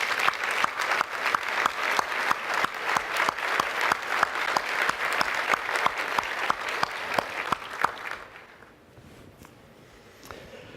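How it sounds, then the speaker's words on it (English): A conference audience at an annual periodontology meeting's presidential address gives a standing ovation for Dr. Salcetti, with dense, steady clapping filling the room for about eight seconds before it stops abruptly and the hall falls nearly quiet. "Please stand for a well-deserved applause."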